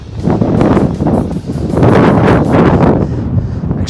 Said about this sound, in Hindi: और बहुत ज़्यादा हवा चल रही है।